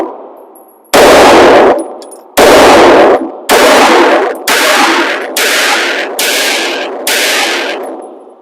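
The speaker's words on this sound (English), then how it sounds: "On both of these, I'm shooting the exact same ammo." Pistol shots from a Staccato C2 and an MPA DS9 firing identical 115-grain rounds at an outdoor range, seven loud separate cracks at uneven intervals, each trailed by a ringing echo and no talking.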